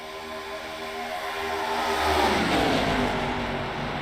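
Several race car engines roar past in a sim racing game, a pack of six cars bunched together with engine notes rising and sweeping through as the group closes in, then easing slightly, loud and layered.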